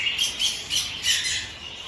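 Birds at an aviary chirp and squawk in overlapping high calls, a steady busy chorus with no talking.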